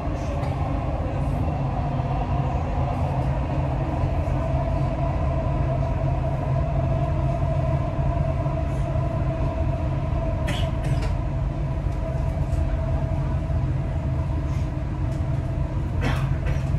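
A Dubai Metro train rides along its rails, a steady close rumble with rolling wheel noise and a few brief squeals and clicks, with no voices.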